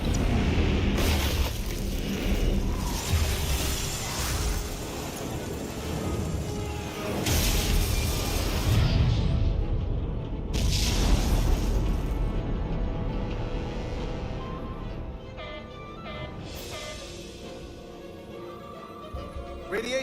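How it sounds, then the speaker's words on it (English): A starship weapons salvo erupting in Star Trek: Resurgence, heavy booms and rumbling blasts rolling through a dense mix of music and effects, with voices talking over parts of it. "Fire salvo!"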